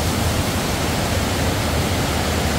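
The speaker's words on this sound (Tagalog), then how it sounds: "meron na kaming naririnig na agos ng tubig" Water rushes near Torc Waterfall in Killarney National Park, Ireland, a loud, steady broadband roar filling the whole moment without a break.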